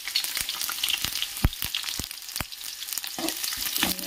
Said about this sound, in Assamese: এইখিনি ধুনীয়াকৈ ভাজি ল'ম